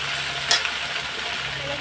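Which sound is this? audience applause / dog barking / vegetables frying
vegetables frying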